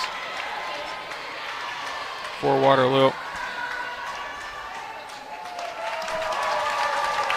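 Crowd noise at a 2020 girls' high school swim meet, Cedar Falls vs Waterloo, as spectators root for a Waterloo swimmer: a steady, moderately loud hubbub with a commentator's voice briefly over it.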